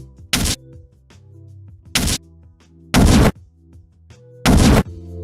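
Designed gunshot sound effect with the low end removed and transient shaping for extra bite: four sharp, dry, punchy shots in an irregular rhythm, each short with no tail, over a quiet tonal musical bed.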